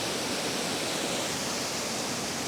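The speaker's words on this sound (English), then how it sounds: "there's a nice trickle of water going through the rocks here" Water trickling through rocks in the Glencoe landscape gives a steady, even rushing hiss that runs unbroken from start to finish, fairly close and with no voices over it.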